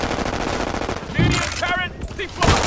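A mounted machine gun nest fires continuously in the shooter game Brink: rapid, loud automatic bursts with a voice speaking over the gunfire partway through.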